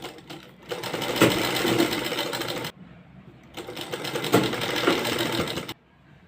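A sewing machine stitches a sleeve onto a kurti in two steady whirring runs of about two seconds each, separated by a short pause, loud and close with no talking.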